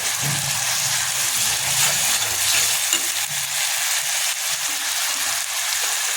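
Asafoetida dropped into hot oil for a green onion vegetable curry sizzles and fries steadily, a close, continuous crackling hiss with faint stirring knocks underneath.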